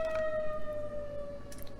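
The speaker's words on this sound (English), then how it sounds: "we'll get to hear a siren go off for the emergency broadcast system" An emergency broadcast system siren wails in a single steady, slowly falling tone, heard from a distance but clearly over faint background noise, with no voices.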